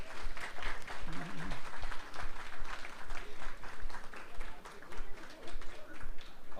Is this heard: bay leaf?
no